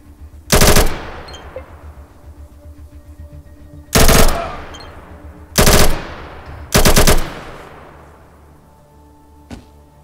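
Automatic firearms in ATOM RPG fire four loud, sharp bursts of rapid shots separated by pauses, each burst trailing off in an echoing tail, with a single faint pop at the end.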